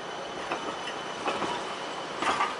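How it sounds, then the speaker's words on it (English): A tram rolls past on a Bucharest city street at a modest distance, with soft clattering wheel bumps and light rail rumble rising briefly in a few separate swells. "This tram system here, one is gonna pass us right now."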